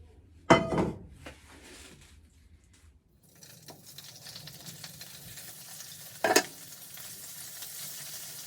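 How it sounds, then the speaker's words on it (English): Prawns frying unseasoned in a pan, a quiet sizzle that swells after a few seconds, with two sharp clinks of a utensil against the pan, one near the start and one later. "I'm gonna try to fry my prawns in there just for a bit"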